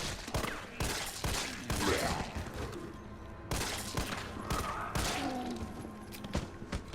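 Rapid, dense bursts of gunfire from the Resident Evil 3 remake, with Carlos firing repeatedly in close, loud volleys over a game soundtrack.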